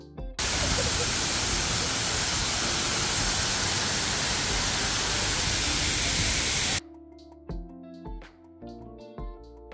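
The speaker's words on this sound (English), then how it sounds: "Then we went to this beautiful waterfall in khorfakkan beach." A waterfall at Khorfakkan beach in the UAE roars as a loud, steady, close wash of rushing water for about six seconds, then cuts off abruptly to quieter ambient sound.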